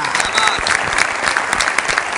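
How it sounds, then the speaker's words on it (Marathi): A large audience claps loudly and steadily for villages working hard on water conservation, a dense, continuous burst of applause close by with a faint crowd murmur underneath. "त्यांच्यासाठी एकदा जोरदार टाळ्या"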